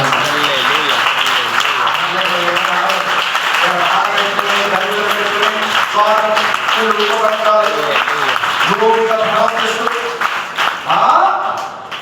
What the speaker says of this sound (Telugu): ఎవరికైనా అందరికి గట్టిగా చప్పట్లు పెట్టుకోవాలి.